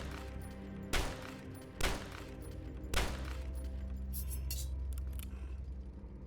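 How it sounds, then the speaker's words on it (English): Assault rifle in the video game DUSK firing a few sharp separate shots, loud and close, with metallic clinks and rattles trailing between them. "Is that my assault rifle?"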